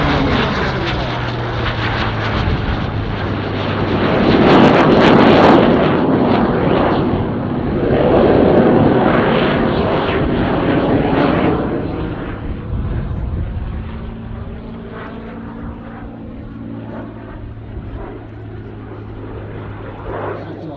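A Supermarine Spitfire piston-engine fighter flies overhead at an air display, its engine drone swelling loud as it passes, then fading into a lower, distant hum while a commentator talks over it.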